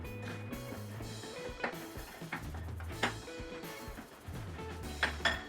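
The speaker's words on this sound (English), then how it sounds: "I'm going to stir that up." A utensil stirs thick protein pancake batter with strawberries and cinnamon in a bowl, making faint, scattered clinks and scrapes at an uneven pace over a low background hum.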